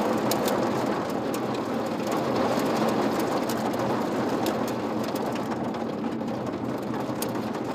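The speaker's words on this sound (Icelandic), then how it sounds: "Heyrið hljóðið? Það er svo haglél bylja á bílum en það kemur neðan frá." Road debris and gravel thrown up from a broken road surface between Seyðishólar and Kerið in Grímsnes pelt passing cars from below like hail: a loud, steady, dense rattling roar flecked with sharp ticks, continuous throughout.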